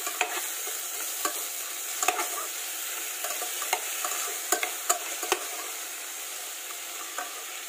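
Tomatoes and ginger sauté in a pan for a barracuda sinigang, giving a steady close sizzle and frying hiss broken by scattered clacks of stirring utensils, with no voices.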